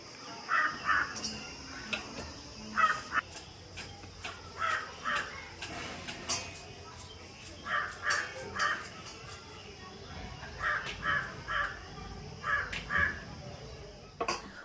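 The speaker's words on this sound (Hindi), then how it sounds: "यहाँ पर कौआ महाराज बैठे हुए हैं, बोल रहे हैं, चिल्ला रहे हैं।" Repeated caws from a crow perched nearby outdoors on an early morning, coming in short bursts of two to four calls with pauses between, moderately loud over faint background noise and occasional distant sounds.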